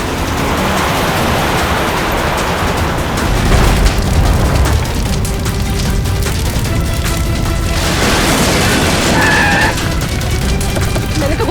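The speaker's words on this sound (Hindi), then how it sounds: "लगता है इसकी गाड़ी में किसी ने बॉम्ब फिट कर रखा था।" A car bomb explosion in a crime drama scene, heard as a broad, loud rumbling blast with a deep boom building around the middle and a second surge later, sustained noisy roar throughout with no speech.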